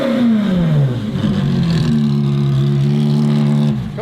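A car engine revving hard and loud up close, its pitch sweeping down and then holding a steady drone before dropping off at the end.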